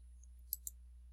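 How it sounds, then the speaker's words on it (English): A computer mouse gives a quick double click, two small crisp taps close together, faint and near, over a low steady electrical hum. "Now we'll click the Browse icon."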